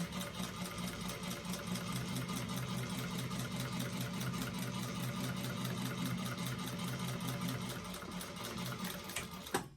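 A sewing machine top-stitches a bag seam with an eighth-inch allowance, a continuous rapid mechanical whir of needle strokes running steadily and close for nearly ten seconds, with a small clunk at the end.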